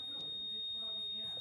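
A water leak sensor under a sink, its battery dying, gives off a continuous high-pitched electronic alarm tone that runs steadily throughout, with faint household voices and movement underneath.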